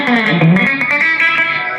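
A distorted TEE-brand electric guitar plays a short gritty phrase of a few notes, loud and close, with crunchy overdriven tone.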